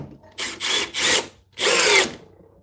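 A Milwaukee compact drill on speed 2 drives a 1.25-inch screw in three close bursts, a short pause, then one longer strained burst, loud and near with no talking.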